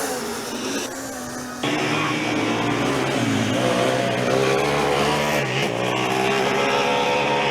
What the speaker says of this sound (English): the Schweinfurt car sounds a bit like a typewriter at the moment